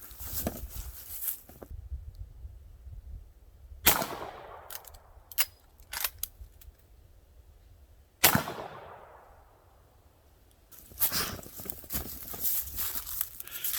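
A Winchester 1892 rifle fires .45 Colt rounds at targets outdoors, with two loud sharp shots spaced a few seconds apart, each ringing out briefly, amid rustling and handling noise.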